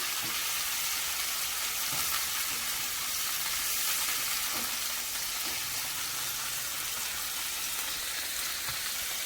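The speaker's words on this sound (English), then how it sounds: "So I'm sauteing peppers, onions" Peppers and onions sauté in a hot pan with a dense, loud, steady sizzle and crackle, occasional stirring taps breaking through, and no one speaking.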